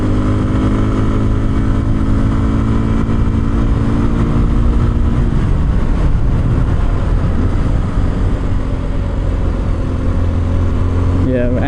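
A 2026 Kawasaki KLX 230 Sherpa S motorcycle rides along with a steady, loud engine drone that shifts pitch partway through as the rider changes speed, its hum persistent throughout.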